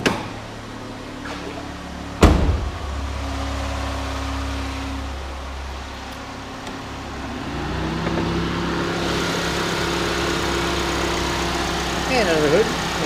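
A Chevrolet HHR's Ecotec engine starts with a brief burst and then idles steadily with a low, even hum close by.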